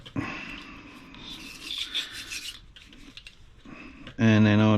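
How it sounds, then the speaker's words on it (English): A brush scrubs the threaded area of a spray gun where the paint pot screws on, making close, rasping strokes during cleaning, with a brief loud tonal burst at the end. "giving that a little scrub out where your paint pot screws onto"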